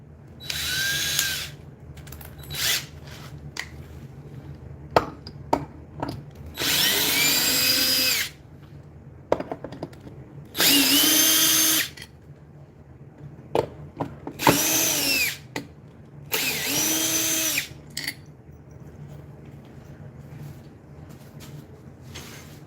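A power drill whirs in several bursts of a few seconds each, its pitch rising and falling, separated by clicks, knocks and quiet pauses.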